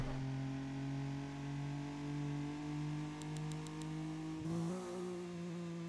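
Car engine revving steadily at high, even pitch after a downshift into too low a gear, a sustained loud drone that jumps slightly in pitch near the end, with no talk.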